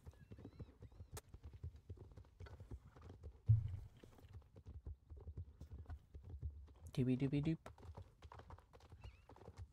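Hoof clip-clops from a slow horse in a horse-riding video game, steady and fairly soft, running under a person's talk and humming, with a brief whinny-like burst partway through.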